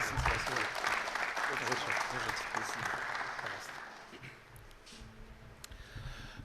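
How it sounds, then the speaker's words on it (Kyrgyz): Crowd at a football league awards ceremony claps steadily, the applause strong at first and gradually thinning out, with a few scattered claps and some talk as it fades. "кол чабуулар."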